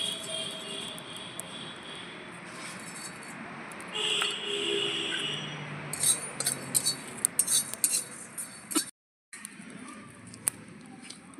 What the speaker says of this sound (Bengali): শুকনো খোলায় কিছুটা ধনে আর একটু গোটা জিরে ভেজে নেব।